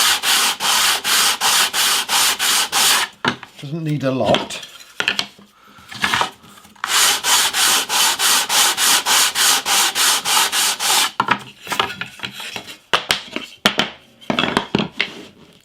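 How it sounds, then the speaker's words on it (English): Fine hand sanding of wood veneer for a guitar headstock with a flame maple top. Long runs of rapid, rhythmic back-and-forth rasping sound up close, broken by short pauses and a brief comment from a voice. "I'm just going to do a little bit of fine sanding on this."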